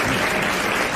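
Studio audience of a French radio comedy show clapping loudly, a short dense burst of close applause filling the room.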